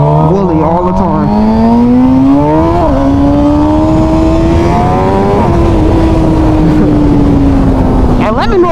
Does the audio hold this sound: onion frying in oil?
no